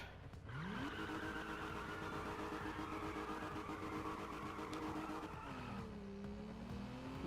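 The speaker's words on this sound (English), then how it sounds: "Let's just do a quick burnout." Video game car in Need for Speed Rivals doing a burnout: engine revs climbing and holding loud with sustained tire squeal, then dropping and rising again near the end, no talking.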